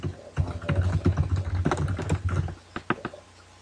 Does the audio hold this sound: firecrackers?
no